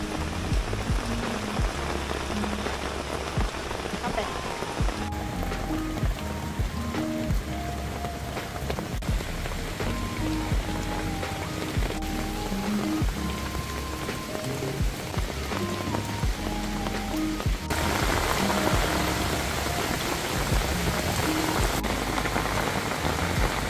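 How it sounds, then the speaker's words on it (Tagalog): Heavy rain pours steadily on a campsite in the woods, a dense continuous hiss of drops drumming on surfaces with brief knocks and clatter, growing louder near the end, with no talking. "Sobrang lakas ng ulan."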